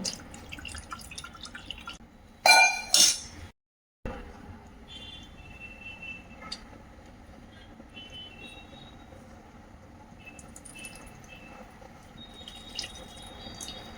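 Water pours briefly and loudly over chhena (cottage cheese) in a cotton cloth while it is rinsed for rasmalai, then gives way to faint, scattered dripping in a quiet kitchen.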